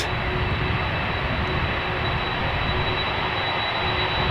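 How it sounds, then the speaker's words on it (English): A 21-year-old China Airlines Boeing 747-400 freighter at Amsterdam Schiphol Airport gives off a steady, broad jet engine roar with a faint high whine, continuous and unchanging. "China Airlines cargo going to Bangkok, 747-400 freighter, 21 years old"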